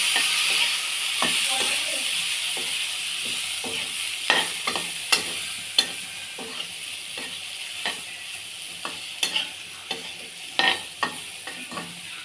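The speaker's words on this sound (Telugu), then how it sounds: "సిమ్లో పెట్టుకొని ఫ్రై చేసుకోవాలండి." Boiled elephant foot yam pieces frying with coriander powder on low heat, a steady soft sizzle broken by sharp scraping stirs and clinks of a spatula in the pan, no voices.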